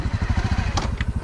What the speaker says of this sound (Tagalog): Palunga sa imong motor, palihog.